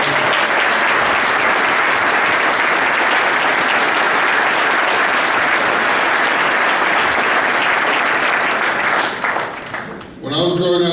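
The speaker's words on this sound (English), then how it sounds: "let's clap for each other" Sustained, dense applause from a crowd gathered at a Las Vegas hotel opening press conference, loud and steady for about nine seconds before thinning out as a voice begins speaking.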